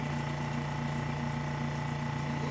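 A Specialty Coating Systems P6712 spin coater running toward 4,000 RPM produces a steady, even motor hum with a constant whine, close and unbroken, with no talking.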